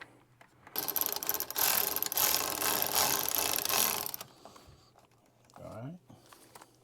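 A ratchet tightens a charge pipe clamp on a 2025 Ford Explorer ST, giving a loud, close, continuous rapid clicking run of several seconds, followed by quieter handling noises and a brief voice-like sound.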